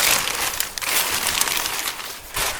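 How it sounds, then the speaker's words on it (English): Wind buffeting a microphone outdoors beside a 1972 GMC Sierra Grande truck, a loud, rough, continuous rumble and hiss with gusty swells. "Alright everybody, I'm going to apologize for the wind noise."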